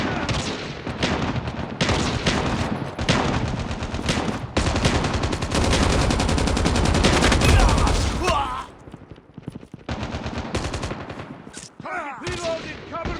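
Machine gun fire in Call of Duty Mobile, long sustained bursts of rapid automatic shots, loud and dense, briefly easing before more gunfire and game sounds resume.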